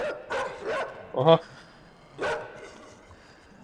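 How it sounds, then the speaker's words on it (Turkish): Dogs barking in the video game Inside: three quick barks in a row, a man's brief exclamation, then one more bark, all fairly close over a quiet background. "Allah köpekler geliyor arkadaşlar."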